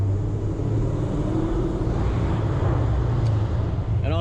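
A deep, steady Dodge Challenger Scat Pack exhaust rumble drones low and loud throughout, in a parking garage, with a constant throaty tone and no talking.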